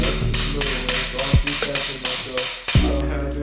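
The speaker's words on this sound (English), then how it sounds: "There's no set way to remove it other than just by hammering it from the top." Repeated metallic hammer strikes on a bolt in a broken car tie rod end ring out close by in a steady rhythm, about eight blows with sharp attacks and short ringing decays.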